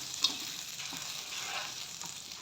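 Green chillies, pigeon peas and garlic roast in a little oil, making a soft, even sizzle with faint stirring scrapes, fairly quiet and with no speech.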